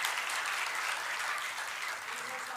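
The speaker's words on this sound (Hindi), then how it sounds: "मैं इनके भाव को प्रणाम करते हुए आपसे जोरदार तालियों की उम्मीद करता हूं।" A large audience at a Hindu religious discourse on the Devi Bhagavata Katha claps in a thick, continuous roar of applause, steady and fairly distant throughout the short stretch.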